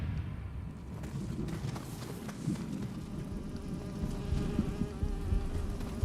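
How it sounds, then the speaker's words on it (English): An insect-like buzzing drones steadily through a stretch of the Nioh 3 video game, a constant close hum with soft background game noise and no speech. "Why do I hear buzzing?"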